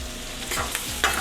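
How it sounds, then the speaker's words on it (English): Food sautéing in a pan with liquid butter, a soft continuous sizzle with a few stirring scrapes, close and steady over a short moment. "Saute a little bit."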